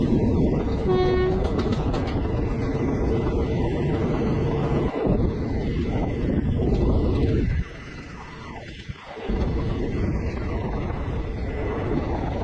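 Madurai Chandigarh Express train running on rails, a continuous loud rumble of the moving carriage heard from on board, with a brief horn toot early on and a sudden drop in noise partway through.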